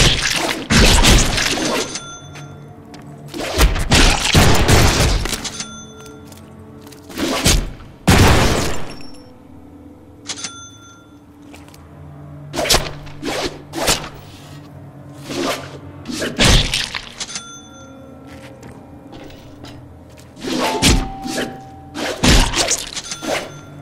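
Deadpool game brawl mixing light and heavy melee strikes: bursts of loud thumping and crashing hits, clustered in quick combos and separated by short pauses, with game music humming underneath.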